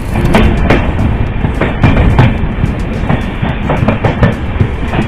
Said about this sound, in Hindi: 2 मिनट होल्ड के बाद अपनी ट्रेन का प्लेटफॉर्म 2 से डिपार्चर होता हुआ बगहा